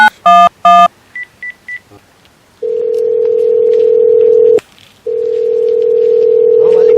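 A telephone number is dialed with a quick burst of DTMF keypad tones, followed by a few short beeps, then a long steady ringing or dial tone that pauses briefly and resumes, loud and close.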